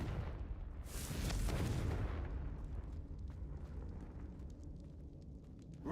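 A Confringo blasting spell bursts with a loud explosive whoosh early on in Hogwarts Legacy on Nintendo Switch, then fades into a low, lingering rumble.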